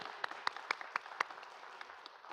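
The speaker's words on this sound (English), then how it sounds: "Can we give them another round of applause?" A small group at a school board meeting claps for a students' presentation, a sparse, quiet applause of a few distinct, evenly spaced hand claps over a soft room background.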